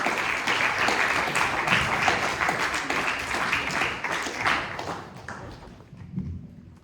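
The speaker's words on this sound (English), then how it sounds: "Let's give Dunham Rowley a round of applause." Audience applause at a community church storytelling event, steady dense clapping from a crowd that fades out toward the end, with a faint voice beginning as it dies away.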